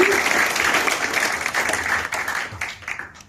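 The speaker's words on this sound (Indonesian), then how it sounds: "Sekali lagi boleh kita berikan tepuk tangan untuk Mr. Yu Wenli" An audience applauds a speaker at a formal MOU ceremony in Bali, a dense wash of clapping that tapers off and turns patchy near the end.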